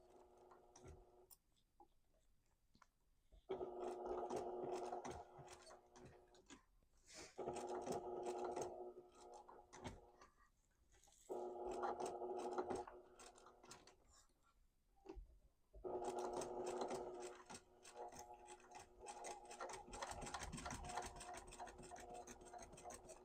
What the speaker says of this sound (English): I can hear it kind of thunking, which means my needle is getting dull.